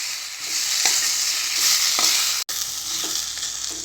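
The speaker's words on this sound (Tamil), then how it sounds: "இப்போ நம்ம அரைச்சி வச்சுருந்த பேஸ்ட்டை வந்து இது கூட நான் ஆட் பண்ணிக்கிறேன். இது நல்லா மிக்ஸ் பண்ணி விட்டுக்கலாம்." Bitter gourd sautéed in a pan sizzles steadily as a ground paste is stirred in, with a spoon scraping in short, repeated strokes over the constant fry hiss, close and fairly loud with one brief break.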